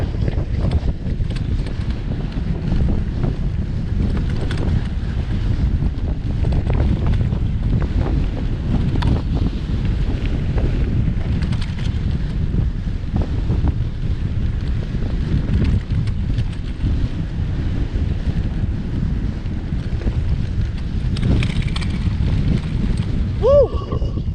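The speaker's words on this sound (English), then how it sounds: "That wind is so strong." Strong wind roars steadily across the microphone while an electric bike with a conversion kit rides off road, a constant loud buffeting rush throughout.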